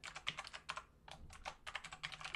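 Rapid typing on a computer keyboard while entering code, a quick uneven run of close, crisp key clicks with a brief pause partway through.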